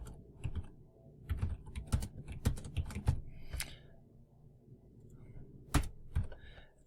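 Close typing on a computer keyboard, quiet clusters of sharp key clicks in irregular bursts with short pauses, plus a few heavier key taps, no talk over it.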